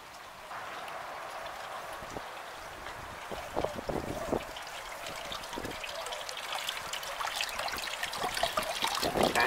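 Water from a hydro lifter with a Pelton wheel trickles and splashes steadily into filling tanks. The flow is continuous and close, with small gurgles and spatters that grow slightly busier toward the end.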